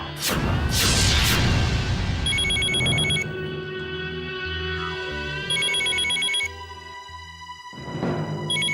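A phone rings in bursts of electronic trilling tones, three separate rings between heavy dramatic music hits and a whooshing swell typical of a TV serial score, with no talking.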